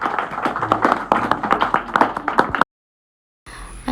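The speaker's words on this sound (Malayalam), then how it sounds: "എല്ലാവരും കൈയടിച്ച് അടിപൊളിയാന്നൊക്കെ പറഞ്ഞ്" Children and a teacher clap after an Onam song, a lively burst of many hands clapping at close range that stops abruptly, then a brief quieter stretch follows.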